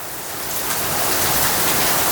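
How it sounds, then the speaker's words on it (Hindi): Steady rain falling outside, a dense hiss that swells slightly louder over a couple of seconds, close and constant with no speech over it. "क्या बारिश हो रही है।"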